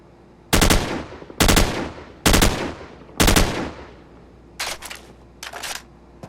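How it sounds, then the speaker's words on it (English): Assault rifle in Call of Duty 4 firing four short bursts with a scope, evenly spaced and loud, followed by a couple of quieter, shorter bursts. "So, let's try this in 4 short bursts."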